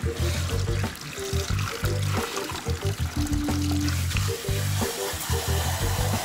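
Water runs steadily over hair at a salon shampoo bowl, a continuous close hiss and splatter lasting throughout, with tonal background music playing underneath.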